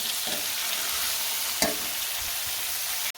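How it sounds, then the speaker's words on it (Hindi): Capsicum and cabbage stir-frying in a hot pan for Chinese biryani, a loud steady sizzle with a couple of brief stirring clinks, close and without talk. "इनको सिर्फ हम 2 मिनट के लिए इसके अंदर फ्राई करेंगे"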